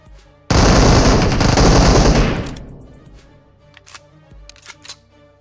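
Automatic gunfire in the BGMI mobile battle royale game, a loud, dense, rapid burst of shots lasting about two seconds that trails off into echoes, followed by a few scattered distant shots.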